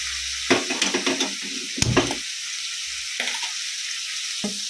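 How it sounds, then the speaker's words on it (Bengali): Paneer lightly frying in butter in a pan for a mixed vegetable dish, with a steady soft sizzle and a few brief stirring scrapes and clatters, close and moderately loud with no talk. "হালকা ভেজে নেবো আমি পনিরটাকে"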